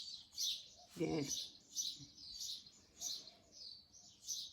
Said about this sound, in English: It is spring here, so we've got a lot of birds. A lot of birds in a tree